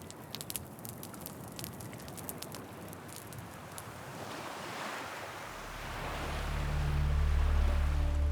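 Waves wash onto a beach opposite St. Joseph's Bay in New Caledonia, a steady hiss of surf with wind buffeting the microphone, swelling into a louder, deeper rushing roar toward the end.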